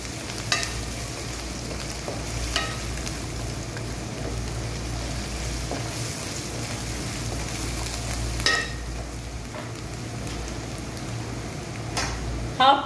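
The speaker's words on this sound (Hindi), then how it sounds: "यहाँ पे जो मैंने अदरक और लहसुन मैंने चॉप करके रखे हुए थे वो इसके अंदर डाल दूँगी" Chopped ginger and garlic fry in a pan for a pea pulao, giving a soft, continuous sizzle with occasional sharp clicks and scrapes from stirring, no voices.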